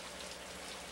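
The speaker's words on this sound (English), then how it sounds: "Blast the rain." Steady rain hisses faintly and evenly on a morning outdoors, a soft continuous wash with no voices.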